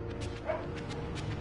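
Household dogs bark behind a Batman Telltale Series livestream with several short, fairly faint yips and barks spread across a moment of steady background sound.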